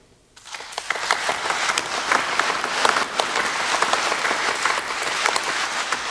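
An award ceremony audience at a competition final erupts into applause for the orchestra conductors, rising suddenly from near quiet into a loud, dense, sustained patter of many clapping hands.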